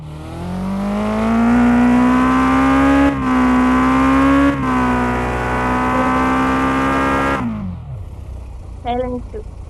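A car engine in a motorbike racing video game revs loudly and steadily, its pitch climbing and dipping, before cutting off abruptly near the end; a brief voice follows.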